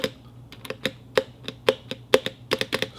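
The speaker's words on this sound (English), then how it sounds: "Stabilizers have a little bit of rattle." Close-up typing on a Womier K87 Phoenix mechanical keyboard produces irregular, crisp keystroke clacks, some louder than others, with slight rattly undertones from the stabilizers and a quiet background between strikes.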